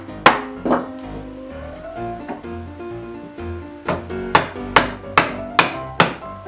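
A chisel being struck into wood on a workbench, with a few scattered knocks followed by a steady series of about seven sharp, ringing wooden thwacks close by. No one speaks.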